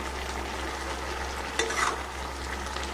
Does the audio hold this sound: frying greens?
yes